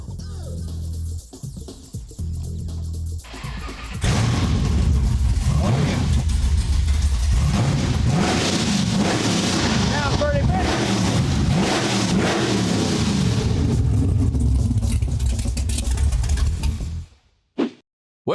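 A loud 840 HP 1971 Chevy Caprice engine roars through open headers with a raw, unmuffled exhaust, revving up hard after a rougher idle, then cutting off abruptly near the end.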